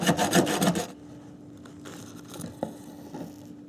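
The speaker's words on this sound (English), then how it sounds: "let's cut open the filter" A short burst of harsh scraping and rasping as an Amsoil oil filter casing is cut open, loud for under a second, followed by quieter faint scrapes, clicks and a low steady hum.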